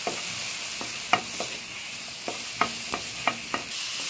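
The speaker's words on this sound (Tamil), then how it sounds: "அதை ஆட் பண்ணிக்கலாம். தக்காளி வதங்கட்டும்." Steady frying sizzle of tomatoes in a pan, broken by a handful of scattered scraping clicks as they are stirred; close by, with no talking.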